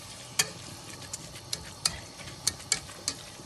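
Celery, garlic and onion cook in a pan as the base of a ragù, giving a soft sizzle with scattered sharp pops and crackles spread through the stretch, with no talking.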